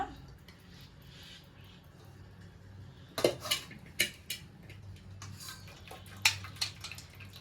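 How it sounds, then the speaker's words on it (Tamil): Boiled rice for egg rice is tipped into a metal strainer, a few sharp clatters and knocks of pot against strainer with soft splashing and draining water between, close and fairly loud over a low kitchen hum. "அதில் நம்ம வடிச்சு வச்சிருக்க சாதத்தை அதில் கொட்டிடுறேன்."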